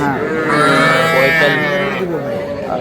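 A Sahiwal bull lows loudly and steadily at a busy cattle market, one long drawn-out moo lasting almost three seconds, close by, with crowd noise faintly underneath.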